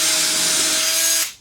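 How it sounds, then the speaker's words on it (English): A power drill with a countersink bit bores pilot holes in a wooden drawer, whirring steadily at close range for about a second before spinning down and stopping abruptly. "So I'm just going to drill a couple pilot holes"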